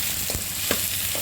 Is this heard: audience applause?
no